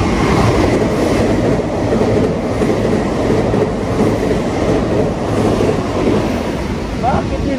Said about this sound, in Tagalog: So andyan na yung tren mga kaidol.